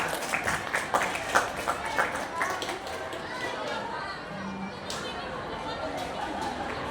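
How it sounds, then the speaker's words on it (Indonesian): Students in a classroom clap together in a short burst of applause that fades into general chatter and voices of children and a teacher. "Tepuk tangan untuk kita semua."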